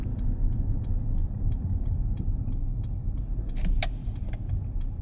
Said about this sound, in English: So as I'm driving out of the test centre, going through the green gates, I'm going to turn right.